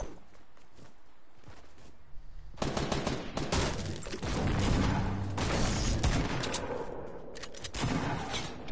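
Gunfire in Fortnite, rapid bursts of automatic shots and heavier cracks crowding together after a quieter start, loud and close, mixed with footsteps and impacts and no talking.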